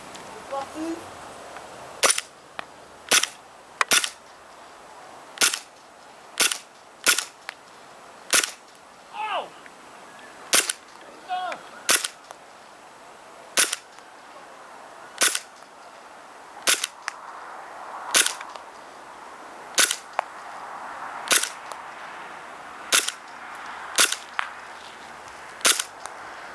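Airsoft Glock 18C pistol test firing, a long series of sharp, snappy single shots at uneven intervals, close and clear over a quiet outdoor background.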